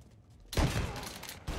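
Gunfire from a bank robbery shootout in Mafia Definitive Edition: a sudden loud burst of shots and crashing noise, then a second burst starting near the end. No speech over it.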